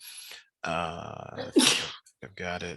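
A single sharp sneeze bursts out during a high school calculus lesson, loud and close, between stretches of a teacher's speech.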